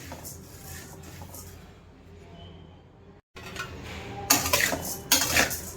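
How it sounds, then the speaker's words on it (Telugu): Coriander seeds dry-roasting in a pan over a low flame for garam masala, with a spatula scraping and clinking against the metal, quiet at first, then louder stirring bursts toward the end. "ధనియాలు మంచి కలర్ వచ్చే వరకు లో ఫ్లేమ్లో మాత్రమే మనం ఫ్రై చేసుకోవాలి"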